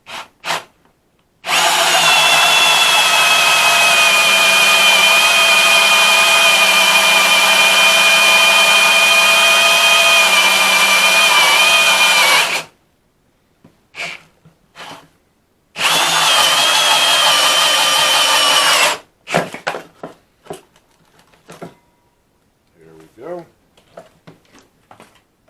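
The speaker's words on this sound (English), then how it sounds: "Be careful because it can grab and whip around as you saw." A handheld power saw cuts into a center console in two long, loud bursts, the first running about eleven seconds and the second shorter, separated by brief pauses with scattered handling noise and some speech.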